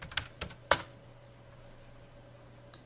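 Several quick, sharp keystrokes tap on a computer keyboard at close range, in a short burst followed by quiet, with a couple of faint clicks at the end.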